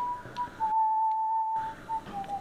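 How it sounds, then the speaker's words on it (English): A single person whistles the national anthem, a clear sustained tone with a brief pause in the middle, close and alone. "whistling the national anthem"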